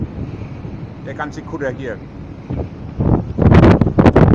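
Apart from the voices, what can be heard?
strong wind on a fishing cutter at sea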